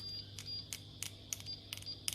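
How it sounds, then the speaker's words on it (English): An Agilent U1253A OLED handheld multimeter set to its diode range gives a series of short, clean electronic beeps in an irregular rhythm, close and fairly quiet, mixed with faint clicks against a low background hum. "if you put it on the diode range, it beeps as well"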